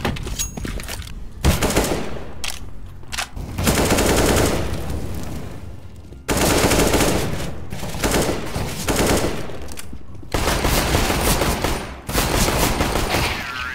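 A Glock pistol fires in a video game: loud, rapid cracking volleys arrive in dense bursts, broken by short pauses of near silence.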